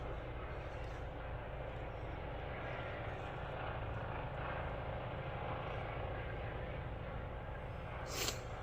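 A low, continuous rotor and engine rumble from two helicopters drones overhead, faint and distant, steady throughout with a brief hiss near the end.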